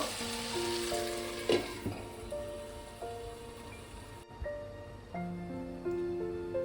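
Chicken meat sautéing in a pan for a sweet-sour-spicy curry, a steady close sizzle with scraping stirs and light clinks, continuous throughout with no talking.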